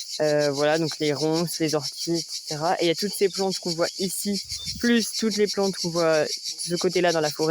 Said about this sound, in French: On entend les cigales là-haut.